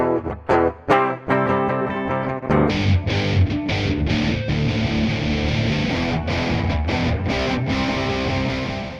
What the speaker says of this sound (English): I used a distorted amp simulator, just one of the stock Ableton ones, and the Clevgrand reamp to get the distortion I wanted